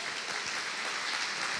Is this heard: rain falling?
no